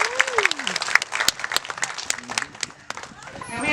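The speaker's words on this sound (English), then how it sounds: "If he does, we'll give him a little round of applause." Scattered applause from an audience at a sea lion show, with the claps mixed in among an animal's honking calls and crowd noise.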